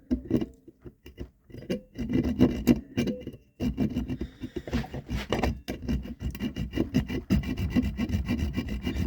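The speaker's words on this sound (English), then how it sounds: "This hacksaw's getting a bit ridiculous now." A hacksaw cuts by hand at a workpiece while a bullet whistle is being made, giving close, uneven rasping strokes in irregular bursts with a brief pause partway, no talking.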